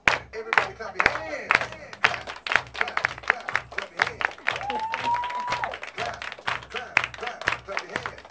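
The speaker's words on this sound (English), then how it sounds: "Everybody clap your hands." A crowd claps in a steady rhythm to funky live music from a band, the claps sharp and regular throughout, with singing and talk over them.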